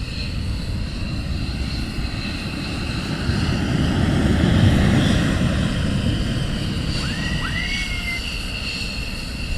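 Military aircraft at RAF Lakenheath, a loud sustained engine roar that swells toward the middle and eases again, broad and steady with a faint whining tone, no talk heard.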